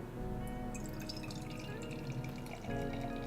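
Fruitlands tropical gose beer being poured into a glass, a soft, steady liquid stream and trickle, faint and close, with a slight change in tone near the end as the pour shifts.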